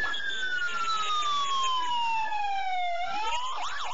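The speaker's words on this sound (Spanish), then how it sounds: "Las unidades de rescate de los bomberos voluntarios llegaron este día al Congreso de la República con sirena abierta" Sirens of volunteer firefighters' rescue units arriving at the Congress of the Republic wail loudly and close by, with long downward-gliding tones that overlap and rise again near the end.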